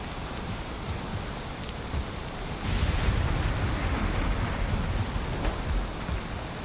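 Rain and a thunderstorm in the Valheim video game, a steady hiss of heavy rainfall with a low rumbling swell of thunder building partway through, continuous and fairly loud with no talking.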